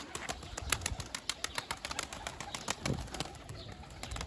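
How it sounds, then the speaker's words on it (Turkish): Faint flapping of wings and soft fluttering as young game pigeons land and settle, with scattered light taps in a quiet outdoor setting. "bakın eke kuş indi. Onlar da havalandı."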